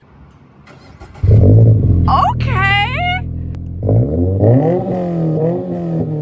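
A Mazda RX-7 FC engine starts and revs hard through a raspy Remark axle-back exhaust, rising and falling in pitch, loud and close, with a brief spoken word.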